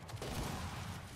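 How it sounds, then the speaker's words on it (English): Gunfire from the Gears 5 competitive shooter: a dense, steady burst of weapon fire that runs without a break for just over a second, fairly loud and close, with no voices over it. "They're shooting that kid."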